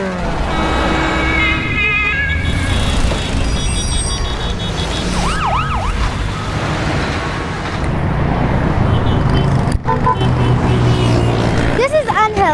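Busy road traffic as noise pollution: a steady roar of passing cars with emergency sirens wailing up and down and occasional horn blasts, loud and continuous throughout.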